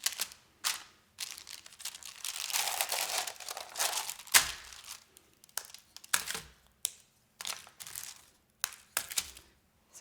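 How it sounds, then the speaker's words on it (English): Wax paper being peeled away and crinkled up close, bursts of sharp rustling and crackling with short quiet gaps, one longer crumpling stretch in the middle. "so we kind of peel it away from the"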